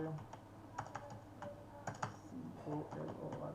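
Typing on a computer keyboard during graphic design work: a quick, uneven run of close key clicks and taps, with denser bursts near the end.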